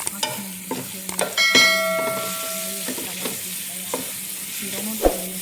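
Ingredients, including fish, sauté in a pan with a steady sizzle and occasional stirring scrapes and metallic clinks of a utensil against the cookware, heard up close.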